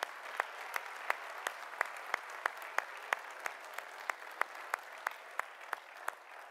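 A church congregation at a Christmas cantata claps to welcome guests, the steady claps landing in a fairly even rhythm over soft background noise, moderately quiet and continuous with no talking.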